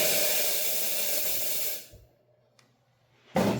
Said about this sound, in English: To steam, you open the steam valve.